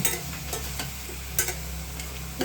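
Spices being stirred into softening tomatoes in a frying pan for a saagu, turmeric just added; steady sizzle underneath with scraping stirs and a few louder clinks, close up, no talking.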